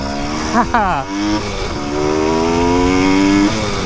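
A Suzuki TS185 two-stroke motorcycle being ridden close up, its buzzing engine loud and continuous, pitch sweeping up and down through quick gear changes and revs before holding a steady high drone.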